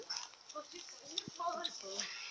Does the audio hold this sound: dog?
yes